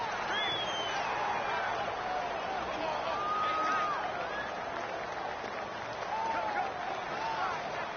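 Loud, steady roar of a home stadium crowd at an NFL football game, Buffalo Bills at Minnesota Vikings, a dense wall of cheering and clapping that holds for the whole stretch with a commentator talking over it.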